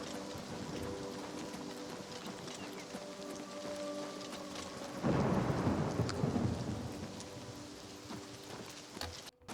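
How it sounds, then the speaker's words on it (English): Rain falls steadily in the video game Oblivion Remaster, a continuous wash of rainfall that swells noticeably midway as a deeper rumbling surge joins it, with faint tonal game sounds beneath. "Wow, you can see the rain falling."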